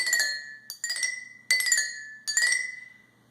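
Five drinking glasses filled with different levels of water are tapped one after another, giving four clear ringing clinks at a steady pace, each chime decaying before the next strike, quiet and close with no talking.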